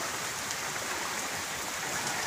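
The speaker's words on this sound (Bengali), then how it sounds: "বৃষ্টি আসছে" Rain pours onto a flooded village road, a dense, even wash of falling water close by with no break.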